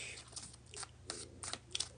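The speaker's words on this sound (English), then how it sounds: "I have to shuffle these cards back in the deck." A deck of tarot cards is shuffled close up, with quiet crisp riffles and slides in short bursts over faint background hum.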